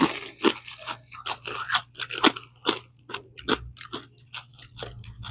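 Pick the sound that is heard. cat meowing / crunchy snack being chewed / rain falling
crunchy snack being chewed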